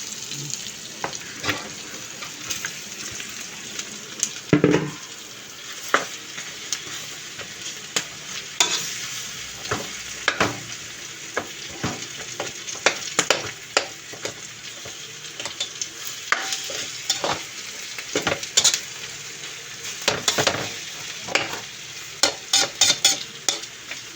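Sinantolan simmers and bubbles in coconut milk while a utensil stirs the pot, giving a steady soft sizzle punctuated by frequent sharp scrapes and clinks against the pan, close by, with no talking.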